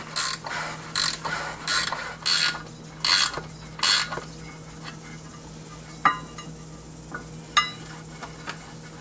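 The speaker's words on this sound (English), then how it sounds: "Now we've got our 13mm ratchet wrench from SP, and we're going to be tightening this down" A 13mm ratchet wrench clicks in rapid bursts while tightening a clutch assembly on a Can-Am X3, with six loud ratcheting runs followed by a few isolated metallic clicks and knocks.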